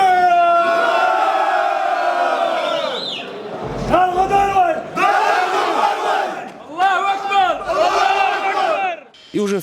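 A large crowd of special forces soldiers celebrating a win at a world military championship bellow a loud, sustained shout of "ura," then break into repeated rousing bursts of collective cheering, close and powerful.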